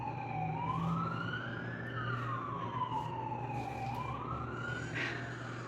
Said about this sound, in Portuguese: E vem uma ambulância